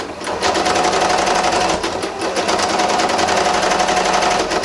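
A sewing machine running a steady stretch zigzag stitch along the seam of a faux fur knit beanie, a continuous close, even whirring hum with one brief pause partway through.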